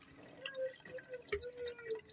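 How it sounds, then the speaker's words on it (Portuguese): Alcohol is poured over passion fruit pulp to make liqueur, giving soft, irregular close-up splashes and drips of liquid in a quiet setting. "A gente está despejando o álcool com a maracujá."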